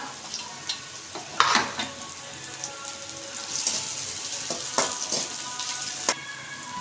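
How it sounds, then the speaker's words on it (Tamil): Ingredients for a fish roe fry sauté in a pan with a soft, steady sizzle, while a spoon or spatula scrapes and clinks now and then, close by and with no talk. "நல்லா வதக்கட்டும்"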